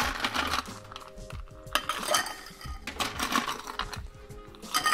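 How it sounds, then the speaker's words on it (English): Ice going into a glass while mixing a classic cocktail, a series of close clinks and rattles interrupted by short pauses, with no talking. "So add ice into this first one."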